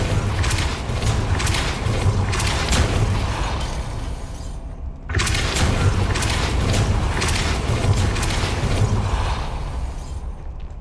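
Hogwarts Legacy's Depulso spell fires a loud, booming blast that rumbles and crackles continuously, cutting out briefly midway before a second powerful surge of roaring impact sound.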